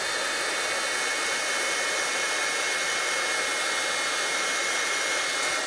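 A heat tool drying a watercolor card blows with a loud, continuous, even whirring roar that holds steady from start to finish.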